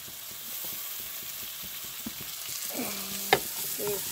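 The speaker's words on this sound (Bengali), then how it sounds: "একটু লাল লাল করে ভেজে নেব" Chopped green chilli and capsicum frying in a pan for pav bhaji, a steady soft sizzle with light stirring scrapes, a sharp metallic clink near the end and faint tonal rattles, no talk.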